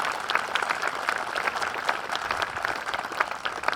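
At a Memorial Day gathering, a crowd gives a warm, steady round of applause for a man's years of service, dense overlapping clapping at an even level with no talking.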